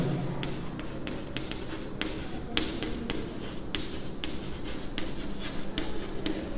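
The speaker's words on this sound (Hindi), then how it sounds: "तो ये रेशो ढूंढने के लिए सबसे पहले मैं लिखता हूँ" A pen writing a math formula on paper, with close scratching strokes and short taps between the strokes that sound like dots and letters. A low room hum sits under it and no one speaks.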